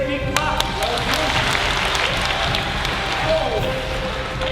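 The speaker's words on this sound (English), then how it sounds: "Give this young lady a big clap." A primary school assembly audience claps for a young girl, a steady, diffuse patter of many hands filling the hall throughout, with voices under the clapping.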